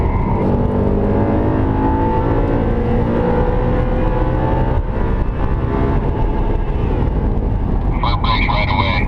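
An Audi R8 pulls hard around Sonoma Speedway, its engine roaring steadily and loud for the whole stretch. A high whine rises near the end.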